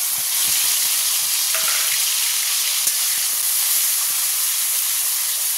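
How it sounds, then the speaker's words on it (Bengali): Ground spice paste frying in hot oil for a Bengali fish dish, a loud, continuous close-up sizzle and hiss with faint spatters, steady throughout with no voices. "এবার বাটা মশলাগুলো দিয়ে দেবো।"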